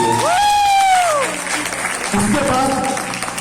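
Audience applause at a Modicare business success talk, steady clapping from a crowd running throughout, with a loud voice calling out over it and a second shout later.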